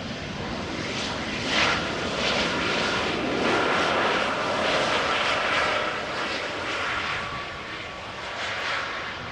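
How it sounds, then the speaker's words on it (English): A jet airliner departing Amsterdam Schiphol Airport gives a loud, sustained roar heard from nearby, pulsing slightly in strength throughout with no talk. "Also hearing an airplane depart"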